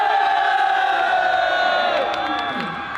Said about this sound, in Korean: 관중들의 뜨거운 환호성과 함께 육군 태권도 시범대의 무대가 시작된다.